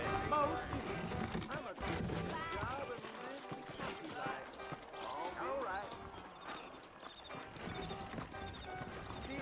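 Horse hooves clip-clopping in Red Dead Redemption, a rhythmic run of hoofbeats with snorts and whinnies mixed under voices talking over the game's busy background sound.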